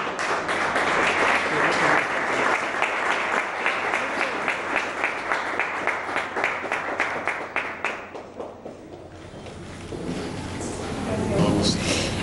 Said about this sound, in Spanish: invitamos entonces a la ganadora con un fuerte aplauso, Daniela de los Ríos Hernández.